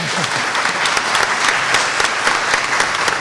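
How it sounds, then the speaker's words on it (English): Audience at a panel event applauding a speaker, a loud, sustained round of many hands clapping at an even level throughout, close and full. "give him another round of applause for sure."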